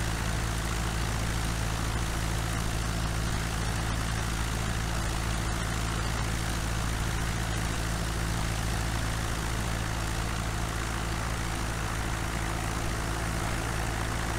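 A small airplane's engine drones steadily in flight out of Québec toward Saint-Hubert, a dense unbroken roar with a low hum heard from inside the cabin, no voices.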